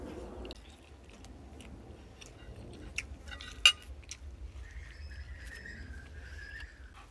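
Close, crisp chewing and biting on crunchy onion and beef stir fry, a few sharp crunches over quiet mouth sounds, followed by a faint high tone near the end.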